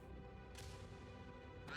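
Duck quacks from a video game duck race ring out faintly over a steady background hum, with one soft quack early and a brighter burst at the end.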